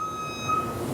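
Fire truck reversing alarm beeping in a steady repeating tone close by, with low engine idle and outdoor noise underneath.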